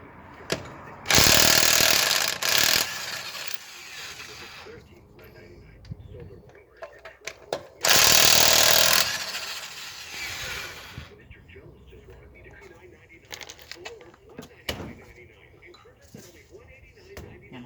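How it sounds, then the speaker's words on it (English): An impact wrench works on a wheel of a 2017 Dodge 1500 pickup during a CV shaft replacement, with two loud rattling hammering bursts of a few seconds each, separated by someone talking and clanking tool handling. "impact wrench. Not everybody may have this in their garage"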